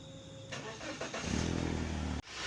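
A BMW E46 318 with the M43 engine starts up. The starter cranks briefly, then the engine catches into a steady idle that stops abruptly near the end.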